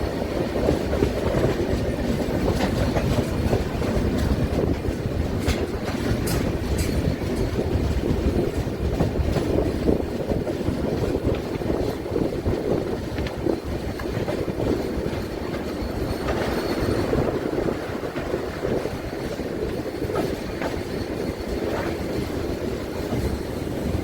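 An Amrapali Express passenger train pulls out of Karnal station, its rolling rumble and wheel clatter steady and loud throughout with faint squeals from the rails, no voices present.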